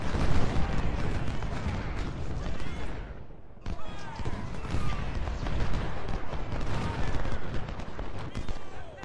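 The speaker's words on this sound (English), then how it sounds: "We're taking some fire, some major fire now from his artillery" Artillery fire rumbles in a strategy video game, a dense, continuous barrage of booms and blasts at moderate volume with voices mixed in.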